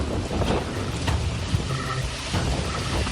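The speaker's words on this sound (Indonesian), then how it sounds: "Hujan deras disertai angin kencang Senin sore melanda kawasan tengah kota Sidoarjo." Heavy rain and strong wind sweeping a city centre during a Monday afternoon storm in Sidoarjo, East Java, a steady broadband roar of gusts and downpour buffeting the microphone continuously, loud and without pause.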